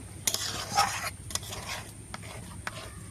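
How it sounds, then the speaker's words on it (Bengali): Palm fruit pulp mixture cooking in a pan over low heat, stirred with a few scraping strokes and faint soft sizzling, close and fairly quiet with no talk. "এটাকে হালকা আঁচে একটু জাল করে নেব।"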